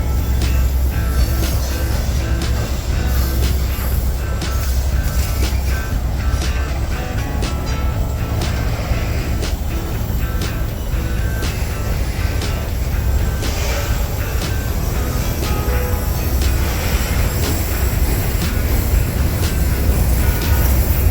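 A freight train carrying a Conrail railcar rolls past close by, a loud continuous rumble of wheels and cars with rhythmic clacking over the rails and no talk.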